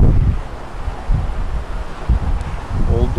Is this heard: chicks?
no